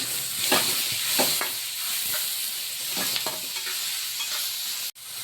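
Constant sizzling hiss from tomatoes sautéing with salt in a pan, with occasional stirring scrapes, close up and no voices.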